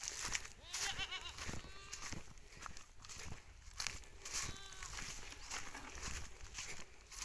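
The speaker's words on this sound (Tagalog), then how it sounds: "doon yung mga anak yung mga kambing natin" Several young goats bleat in short, wavering calls over a busy outdoor background during a dry season, with footsteps and rustling mixed in.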